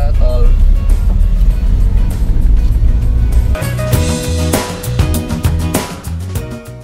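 A car heads onto a toll road toward Balikpapan, a steady loud engine and road rumble filling the cabin, with a soft musical chime near the end.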